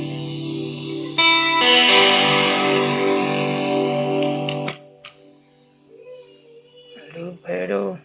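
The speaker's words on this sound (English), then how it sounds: "Distortion." A guitar played through a distortion pedal routed via a Donner ABY Box splitter/combiner, sustained buzzing distorted chords ring loudly for several seconds, then cut off, followed by quieter clicks and brief speech.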